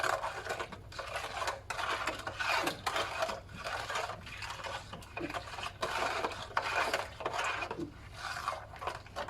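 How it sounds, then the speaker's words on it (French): A homemade floor cleaner, partly crystallized powder in water, is stirred in a container, making irregular scraping and rubbing strokes in uneven bursts, fairly quiet and close, with no speech. "Alors, vous voyez, ça se cristallise un petit peu, il faut bien mélanger."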